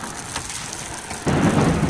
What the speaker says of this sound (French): il pleut en hiver